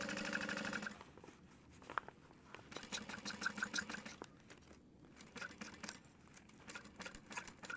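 A sewing machine stitches a tote bag seam into a corner, running in short quiet bursts of rapid whirring with brief pauses and light clicks between them.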